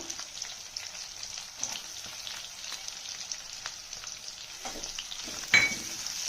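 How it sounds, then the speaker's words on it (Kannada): Onions fry with garlic in a pan over medium heat, giving a continuous close hiss of sizzling oil with occasional stirring scrapes and a sharper clink near the end. "ಈರುಳ್ಳಿ ಮೆತ್ತಗಾಗೋವರೆಗೂ ಫ್ರೈ ಮಾಡಬೇಕು."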